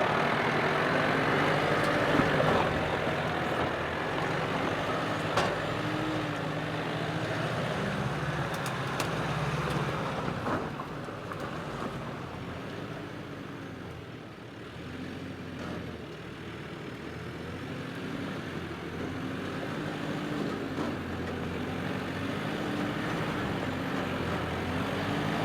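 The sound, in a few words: 4WD vehicle engine climbing a steep hill track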